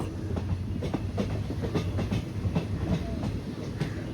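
A train's diesel engine starts up, giving a low steady throb under a rhythmic clatter of rail cars that continues throughout.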